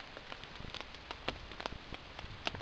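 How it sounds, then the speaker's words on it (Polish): Rain falls on a tent at night during a long bicycle tour, a dense soft patter with scattered louder drops, steady and close, with no talking. "Zdaje się, że pada chyba. Jest około 2 w nocy."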